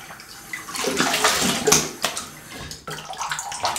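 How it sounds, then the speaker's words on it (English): Cold tap water runs and splashes up close for a rinse during a wet shave with wool-fat shaving soap, the gushing stream rising and falling with one brief pause near the end. "cold water rinse"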